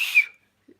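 A woman whistles a single short, bright note that trails off quickly, followed by silence and a faint soft sound.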